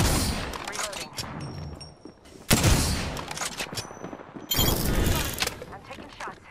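Gunfire in a shooter game: bursts of rapid shooting are broken by louder single blasts, near and dense, with short lulls in between, and game voices and effects sit over the top.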